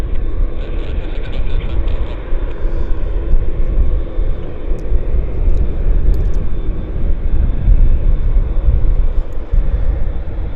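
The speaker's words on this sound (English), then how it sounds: "And here's our 787 to Toronto." Loud, steady roar of a Boeing 787 airliner at Vancouver Airport, a broad rumbling engine wash that holds constant throughout.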